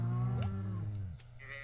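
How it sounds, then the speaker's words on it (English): Cows mooing in a video game, several low drawn-out moos overlapping at once for about a second before fading into quieter game ambience. "I love when I hear all the cows moo at once."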